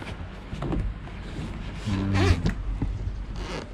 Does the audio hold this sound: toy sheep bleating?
no